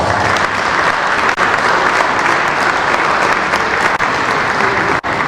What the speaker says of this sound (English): please give them an NBA round of applause